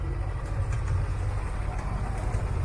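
A low, steady sailboat motor drones continuously, even and unchanging, with no voices over it.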